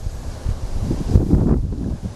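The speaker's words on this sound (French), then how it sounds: "On a beaucoup de vent aujourd'hui, hein. Comme vous pouvez le constater, ça souffle partout." Strong wind gusting across a microphone outdoors on a waterside magnet-fishing outing, a steady low rumbling buffet that swells and peaks midway, with no voices.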